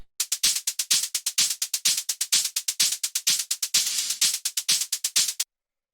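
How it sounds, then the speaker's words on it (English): Driving techno hi-hat loop: crisp, bright metallic ticks in a fast steady rhythm, with open hats between closed ones, played alone and fairly loud before stopping suddenly. "After that we have the hi-hats, which sound like this."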